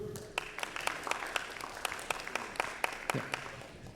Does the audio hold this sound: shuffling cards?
no